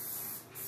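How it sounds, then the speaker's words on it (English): A short hissing burst of cooking spray coats a muffin pan in a kitchen, one close spray under a second with a brief dip in the middle. "so now I'm gonna spray"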